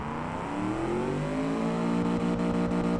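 A car engine in the video game Automation revs at full throttle, a loud steady roar climbing steadily in pitch over a few seconds, heard alone.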